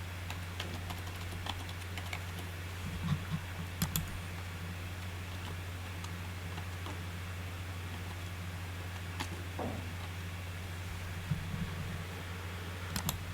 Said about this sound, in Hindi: तो मैं अपना मोबाइल नंबर यहाँ पे फिल कर देता हूँ।